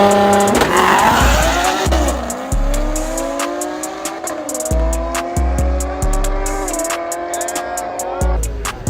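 A Ford Mustang at a drag race, heard as a loud, close engine revving hard through repeated rising gear pulls, with abrupt shifts, sputtering pops and tire noise over about nine seconds.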